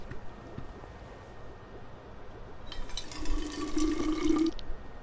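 Tap water running in the video game We Happy Few, a soft background hum giving way near the middle to a brighter, louder stream of water pouring and filling for a couple of seconds before cutting off.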